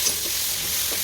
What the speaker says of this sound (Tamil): வெங்காயம் வதங்கினதுக்கப்புறம் கூட தக்காளி சேர்த்து நல்லா தக்காளி வேகிற அளவுக்கு நல்லா வதக்கி எடுத்துக்கலாம்